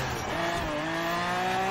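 A 2016 Lamborghini Aventador SV Limited Edition racing in Forza Horizon 4, with a steady, loud engine drone whose tones climb as it accelerates and a touch of tire squeal, nonstop for under two seconds.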